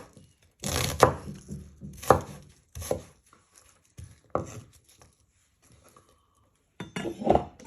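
A knife slices through an onion on a cutting board in several separate crisp strokes, each ending in a sharp knock against the board, with quiet gaps between cuts and no voices.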